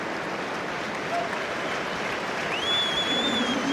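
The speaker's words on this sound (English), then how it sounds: "Warm round of applause for GBP. Jack van Portfleet." A rugby crowd at Welford Road during a Leicester Tigers versus Newcastle Red Bulls Premiership match claps in a warm, steady round of applause, spread across the stadium and sounding fairly distant.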